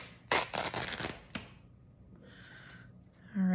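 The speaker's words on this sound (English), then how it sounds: "So I'm gonna just cut a piece here and rip it." Fabric for a junk journal cover being cut and then torn by hand, a close burst of rapid tearing rasps lasting about a second followed by quieter rustling.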